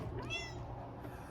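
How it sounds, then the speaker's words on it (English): A cat gives a single clear meow, close and fairly loud, alone against a quiet background. "a kitty cat's meow."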